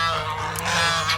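Chinese geese honk loudly at close range, a short burst of harsh, nasal calls overlapping in quick succession outdoors.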